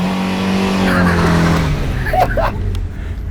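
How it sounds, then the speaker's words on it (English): A cheap car's engine roars while tires squeal and skid in a sustained burnout at a car show, loud and close, with brief voices near the end. "I think that's the first burnout my car ever did."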